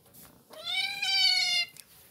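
A pet cat gives a single drawn-out meow, clear and close, rising then holding before cutting off, surrounded by quiet with no audible purring.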